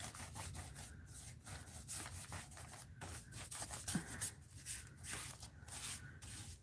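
Paint being scraped across an art journal page during a mixed-media session, giving a steady run of dry, rasping strokes close by that repeat in short bursts with brief pauses between them.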